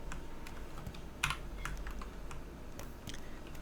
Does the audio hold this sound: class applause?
no